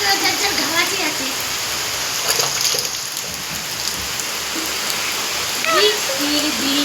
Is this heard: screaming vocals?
no